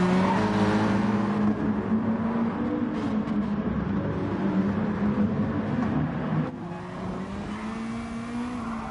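A Mazda Atenza race car at the Nurburgring in a racing game, its engine roaring loud and close with shifting pitch as it brakes and accelerates, plus hints of tire squeal, a continuous dense motor sound with a drop partway through.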